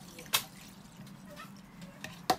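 Fish being washed by hand in a bowl of fresh water in a home kitchen, giving quiet sloshing and a few sharp splashes and drips, close and faint with no talking.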